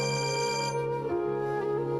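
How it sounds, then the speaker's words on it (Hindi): An electronic phone ringtone plays nearby, a steady tonal melody repeating without any speech. "बाजी, आपका फोन बज रहा है।"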